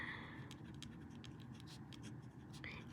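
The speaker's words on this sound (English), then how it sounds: "So I'm going to write June" A pen scratches across paper in short, quiet strokes while writing a date, soft and close against a steady low room hum, with no talking.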